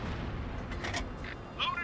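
A tank cannon in the World of Tanks console game fires with deep booming rumbles under continuous low engine drone, with a brief metallic clank near the end.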